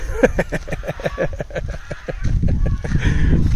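Chickens cluck in a rapid run of short, close calls, followed by a rougher low rustling and bird noise.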